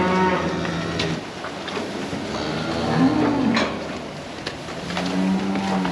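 Cattle on a farm during muck clearing moo loudly and repeatedly, with long low calls near the microphone over steady background noise and no talking.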